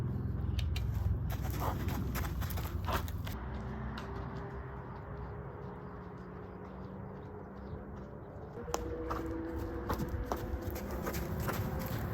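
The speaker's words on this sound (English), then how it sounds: "So this great horse here, his name is Petrus" Petrus the horse walks along, his hooves clip-clopping in a loose rhythm, clearest near the start, over a steady wash of outdoor background noise with a few sharp clicks later on.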